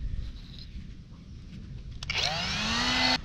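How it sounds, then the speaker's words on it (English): A Saker mini angle grinder spins up and whines steadily near the mic, its pitch climbing over the last second before it cuts off abruptly; a quieter rumbling stretch comes before it. "Saker mini angle grinder."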